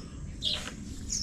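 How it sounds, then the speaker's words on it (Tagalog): Birds chirp outdoors in the morning, with two short, fairly faint high calls over a low background hum. "Naririnig na naman natin ang mga ibon dito sa kapanalig."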